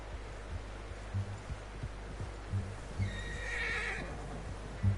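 A horse in the video game Red Dead Redemption 2 lets out a nearby whinny, with several soft hoof thuds and faint rustling under a low ambient hum.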